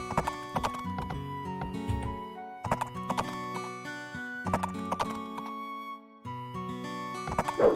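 Horse hooves clip-clopping in the strategy video game Age of Empires, with a possible whinny, set over a busy layered game soundtrack and interface sounds that run almost continuously through the clip.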